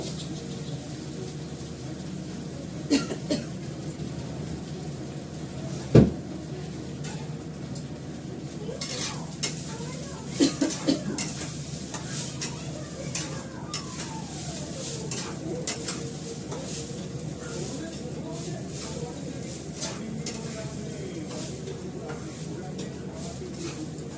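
Vegetables are stirred and sautéed in a hot pan, a steady sizzle broken by repeated scraping and clinking of the spoon, with birds cooing softly in the background.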